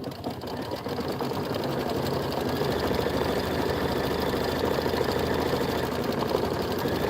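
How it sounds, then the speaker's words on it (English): A home embroidery machine runs a quilting stitch on a bench pillow border, giving a steady, fast mechanical chatter and hum that stays close and even for the whole stretch with no talking over it. "Okay, I'm ready to do the quilting stitch."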